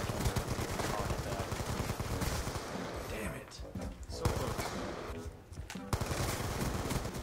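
Rapid automatic gunfire in Black Ops 2 party game matches, dense bursts of shots nearly continuous with a few brief pauses, mixed under excited player chatter.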